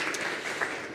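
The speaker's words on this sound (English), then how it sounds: "Give a round of applause to these guys." A brief, dense burst of audience applause at a workforce analytics conference, steady and fairly close throughout.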